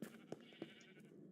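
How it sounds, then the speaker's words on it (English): A sheep in the Minecraft video game bleats in short, faint, wavering calls, two or three quick bursts repeating softly against a quiet background. "Sheep."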